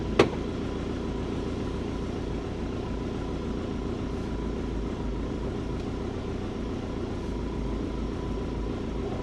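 A Subaru engine fitted with a custom 4-inch turbo intake idles at a steady, low, constant rumble. A brief click comes at the start, and no voices can be heard.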